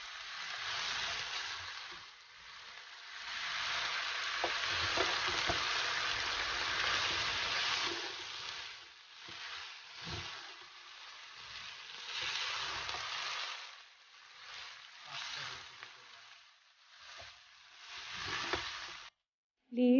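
Beef pasta sauce with tomato ketchup stirred in a pan, a steady loud sizzle and hiss with soft scraping of the spatula that swells and eases in waves, then drops off abruptly at the end.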